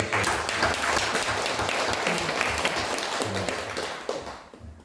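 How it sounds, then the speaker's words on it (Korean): A church congregation applauds newlyweds during a Sunday worship service, moderately distant clapping that holds steady and then tapers off over about five seconds. "축복의 박수."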